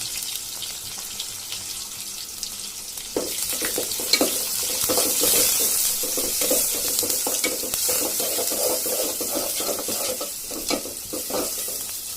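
Onion and garlic with black cumin fry in hot oil for a dal tempering, a steady sizzle with stirring scrapes and clinks that rises after a quiet start and keeps crackling close by.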